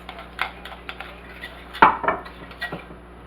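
A spoon stirring banana pudding mixture in a bowl, with close, repeated scraping clinks against the bowl and one louder knock midway.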